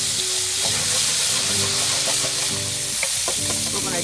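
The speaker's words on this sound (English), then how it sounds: "now we're going to put the cherry tomatoes in" Cherry tomatoes drop into a pan already sizzling with garlic, sage leaves and hot pepper flakes, giving a loud steady frying hiss with stirring clatter and a few sharper pops, close up and without talk.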